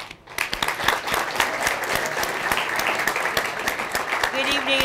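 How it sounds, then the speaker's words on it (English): Audience applause fills a lecture hall at a political institute event, sustained, dense clapping from many hands, moderately near, with a voice briefly audible near the end. "Give a round of applause."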